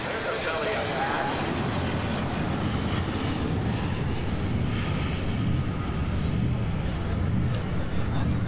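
An A-4B Skyhawk jet flies a belly-up pass at the 2011 NAS Oceana airshow, giving a steady, loud, broad engine roar throughout.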